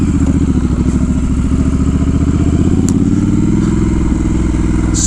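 A nearly new Triumph Scrambler 1200 XE, still under 500 miles, rides off-road on sand. Its engine holds a loud, steady, close rumble throughout, with no talk.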